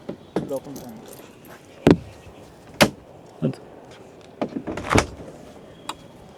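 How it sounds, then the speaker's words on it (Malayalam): The suicide-style rear-hinged door of a Fiat Elegant car is worked open, with several sharp metallic clicks and thuds of latch and handle spaced over the clip and faint talk underneath. "ഒരു ഡോർ ഇങ്ങനെയും തുറക്കും മറ്റേ ഡോർ സാധാ പോലെ തുറക്കും"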